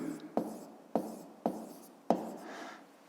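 A pen writes a math solution on paper in four soft, distinct strokes spaced about half a second apart, faint and close with no talking.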